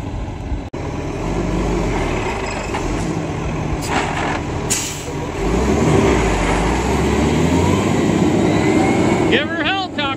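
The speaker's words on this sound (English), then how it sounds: "This is a conveyor truck, guys. We're gonna pour this thing out 20 yards." A concrete conveyor truck works at a stem wall pour for an ICF frost-protected foundation, its engine and machinery droning loudly and steadily with hissing bursts and a rising whine near the end.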